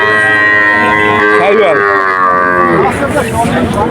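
A calf moos loudly and close by at a cattle market, a drawn-out bawling call with a second rising moo following, over a busy background.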